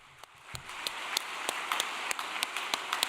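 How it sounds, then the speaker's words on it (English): An audience claps at a religious gathering, a moderately quiet patter of hands with distinct sharp claps spaced through a steady wash of applause. "Why don't we give a big round of applause to our brother?"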